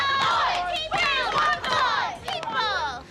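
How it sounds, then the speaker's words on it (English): A restless crowd at a school chants and shouts loudly and continuously, with many overlapping young voices calling out together close by. "the crowd is beyond restless and chanting"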